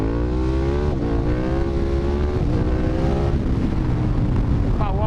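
Remapped KTM 1290 GT motorcycle engine under way, a loud close drone rising in pitch through gears with brief shift dips, wind rush underneath and a rider speaking over it.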